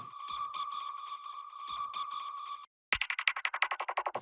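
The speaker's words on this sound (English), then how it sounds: "it's like a little hospital bleep or something." Electronic bleeps repeat in a steady pattern, then a quick series of shorter, faster pulsing beeps follows a brief silence.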